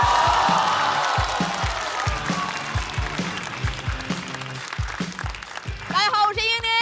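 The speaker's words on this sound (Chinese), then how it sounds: "掌声有请莹宁" Audience at a Chinese stand-up comedy competition show applauding and cheering as a comedian takes the stage, a dense wash of clapping with a rhythmic beat of music underneath and a voice speaking over it at the end.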